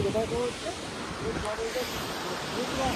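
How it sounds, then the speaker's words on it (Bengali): Waterfall pouring and spraying close by, a steady broadband rush of falling water with wind buffeting the microphone and voices faintly audible beneath it. "কিভাবে জলটা পড়ছে দেখ ভাই।"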